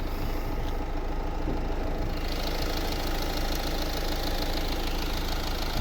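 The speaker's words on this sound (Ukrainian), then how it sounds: "камера передає, наскільки рівно, тихо, еластично так працює двигун" A 2013 Renault Grand Scenic III's 2.0-litre dCi diesel engine idles close by with a steady, even knocking rumble that stays constant throughout.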